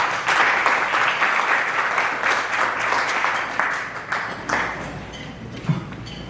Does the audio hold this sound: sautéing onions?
no